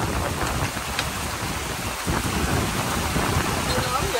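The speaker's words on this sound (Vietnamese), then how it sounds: "Mưa lớn dễ sợ." A heavy storm downpour at Đầm Thị Tường lagoon hisses continuously and close, with a low rumbling undertone beneath the steady wash of rain.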